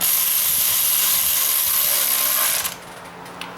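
A powered wrench snugs up bolts with a loud, continuous whirring hiss for a couple of seconds, then cuts off, leaving quieter room noise.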